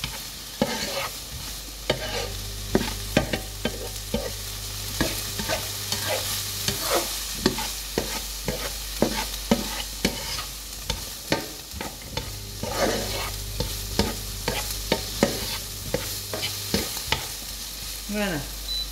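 Chicken pieces, potato and carrot fry in a pan over moderate heat, giving a steady close sizzle broken by repeated loud scraping and stirring clatters from a utensil against the pan.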